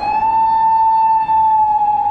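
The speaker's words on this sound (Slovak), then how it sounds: "policajné auto niekam ide" A Japanese police car siren on Okinawa wails as one loud, steady, high tone, held near and continuous for about two seconds.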